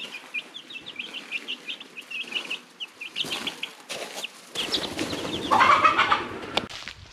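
Chickens on a farm cluck and chatter in a busy flock at midday, with soft squawks and occasional wing flaps rising toward the end.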